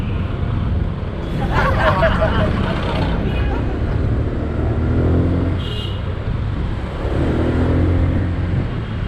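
Heavy road traffic rumbles around a motorbike rider in hot weather, with steady engine drone and passing vehicles and faint horn-like tones; people's voices and babble mingle with the noise.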